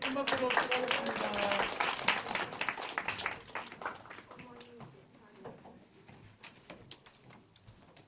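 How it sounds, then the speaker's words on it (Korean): A university worship congregation claps in celebration, a burst of lively clapping with voices mixed in that thins out after a few seconds into scattered claps and quieter murmuring. "다시 한번 우리 큰 박수로 축하하겠습니다"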